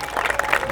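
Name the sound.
applause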